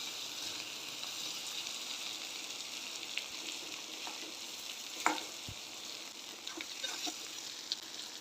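Boiled potato bhaji sizzles steadily in a pan, a soft, even frying hiss with a few faint clinks and stirring scrapes, heard alone without talk.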